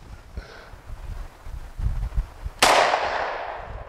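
A single sharp gunshot cracks out at an ArmorCore Kevlar ballistic panel on an outdoor range, loud and close, its bright blast decaying over a second after a few soft thumps and rustles.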